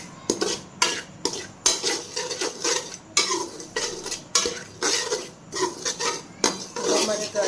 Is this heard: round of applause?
no